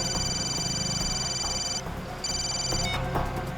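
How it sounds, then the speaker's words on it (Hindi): A phone call being placed in a crime drama scene: steady electronic telephone tones ring out, cut off briefly partway through, then resume over a low background bed. "अभिजीत को फोन करता हूँ।"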